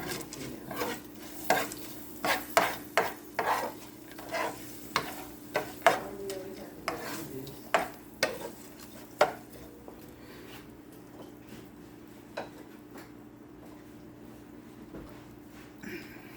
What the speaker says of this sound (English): And I'm going to give it a stir.